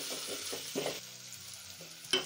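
Potatoes frying in oil over a low flame, a faint gentle sizzle with a few soft stirring scrapes, quiet and close.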